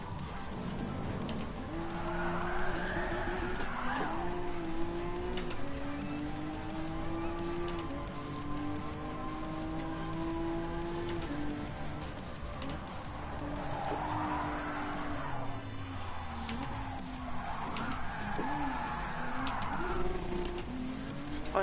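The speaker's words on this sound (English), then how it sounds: "It's a fun drift car." A drift car in the video game Gran Turismo Sport drones with engine noise while its tires squeal in several long skids, the squeals rising and falling through the run.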